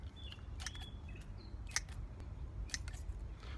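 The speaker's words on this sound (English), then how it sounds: "Cut the leaves in half." Scissors snip through the leaves of acerola cherry cuttings, giving several sharp, close clicks and crisp cuts spaced irregularly over a quiet background.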